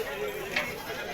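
A goat gives a short bleat amid the steady crowd murmur of a village goat market selling local and Kathiyawadi cross goats, the bleat brief against continuous background chatter.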